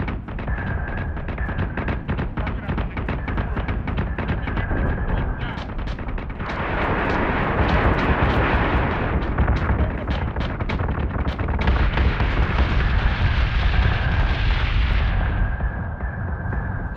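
Missile explosions in a Missile Command video game: continuous rumbling booms and crackling blasts, with a louder roaring surge midway and another toward the end, over a steady repeating beep.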